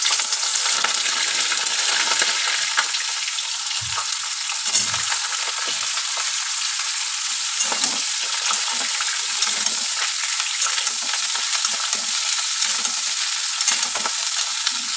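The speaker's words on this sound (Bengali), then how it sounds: "এবার এই তেলের মধ্যেই আমি আমার ফুলকপিগুলো ভেজে নেব।" Cauliflower florets fry in hot oil, left over from frying potatoes, with a continuous crackling sizzle. It is loud and close, with a few faint stirring clinks and no talking.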